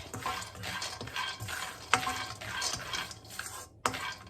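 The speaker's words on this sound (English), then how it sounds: "So here I've got peanut. We're going to roast the peanut." Peanuts dry-roasting in a wok with no added oil, stirred with repeated scraping strokes and rattling, a few sharper knocks against the metal, close and steady.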